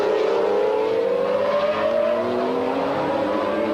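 GT race cars, including a Gulf-liveried McLaren, roar past at Jerez circuit, engines howling loud and close with rising and falling pitch as they accelerate and overtake, a continuous dense wall of engine noise.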